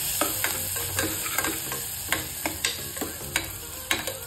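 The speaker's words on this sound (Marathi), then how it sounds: "पांढरा घेवडा, चांगला हलवून घ्यायचा आहे।" White beans being stirred with garlic in a hot pan for masale bhat, a soft continuous sizzle under a regular run of spoon taps and scrapes against the pan, close and moderate, with no talk.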